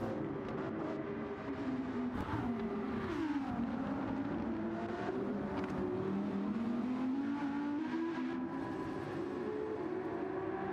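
Audi race cars roar through a multi-class racing video game, engines droning and rising in pitch as they accelerate and shift, a continuous layered whine with no speech.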